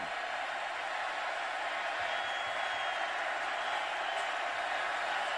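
A football stadium crowd at a Kansas State Wildcats vs Baylor Bears game roars for the Baylor defense, a steady, dense wash of cheering noise that stays loud throughout without breaks.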